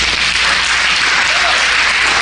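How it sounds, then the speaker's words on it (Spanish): A church congregation claps in a steady, loud wash of applause during a Palm Sunday service, dense and continuous throughout. "Dele un aplauso a Jesús."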